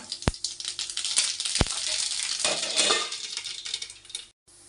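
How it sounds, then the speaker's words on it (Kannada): Mustard seeds sizzling and crackling in hot oil for a tempering, a steady loud fry with sharp pops and two clanks of a pan or spoon, ending abruptly. "ಇವಾಗ ನಾನು ಇದಕ್ಕೆ ಸಾಸಿವೆ ಹಾಕೋತಾ ಇದ್ದೀನಿ"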